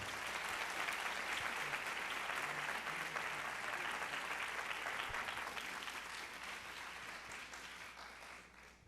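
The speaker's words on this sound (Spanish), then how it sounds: "les pediría que lo recibamos con otro fuerte aplauso" Audience applause at a conference on strategic city management, a sustained, thick patter of many hands that stays level before gradually tapering off toward the end, heard alone without speech.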